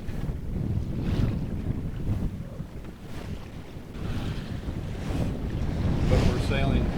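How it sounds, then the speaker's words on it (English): Wind rushes steadily over a Compac 23 sailboat under way with its sails trimmed, a broad blustery roar blended with the wash of water against the hull, loud and continuous with no talking. "But we're sailing. Our sails are in perfect trim."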